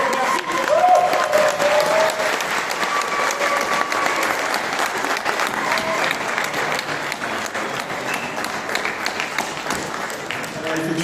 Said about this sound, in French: puisque vous continuez à applaudir